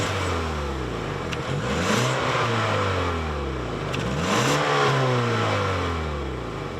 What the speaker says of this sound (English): My tester is the 2-liter turbocharged 4-cylinder, making 250 horsepower and 280 pound-feet of torque.